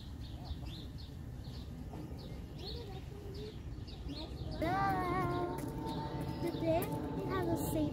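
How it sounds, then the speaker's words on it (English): Birds chirp and call at a spring bird festival in Colonel Samuel Smith Park, a steady chorus of small tweets that grows fuller and louder halfway through over a constant outdoor background hum. "The birds welcome us."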